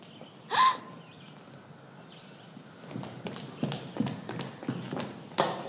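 Horse hooves clip-clopping at a walk, a run of irregular knocks that grows more frequent and closer toward the end, after a brief louder sound near the start.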